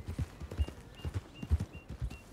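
Horse hooves clip-clop in a steady trotting rhythm in the Red Dead Online video game, fairly quiet and alone, with a faint recurring high tone between steps.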